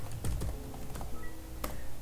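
Keys clatter on a computer keyboard as a text entry is typed, with irregular soft clicks and a few louder taps heard alone at a low, close level.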